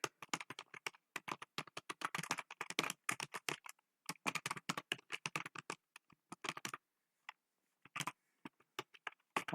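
C++ code is typed on a computer keyboard in quick, close bursts of clicking keystrokes with short pauses between runs, and no voices.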